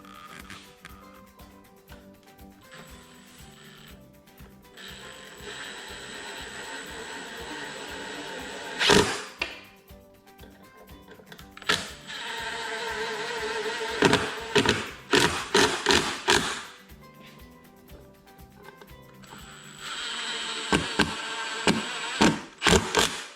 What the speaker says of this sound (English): I'm going to screw these up with an impact driver.